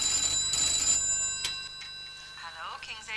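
A telephone bell rings in a loud trilling burst, then a single short ring follows; after a pause a voice begins talking.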